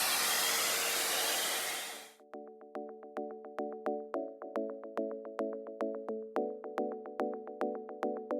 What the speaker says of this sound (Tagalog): Blower talaga.